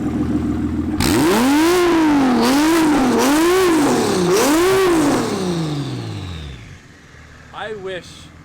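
A car engine revs hard several times in quick bursts, loud and close, then winds down as it idles; a short blip of voices follows at the end.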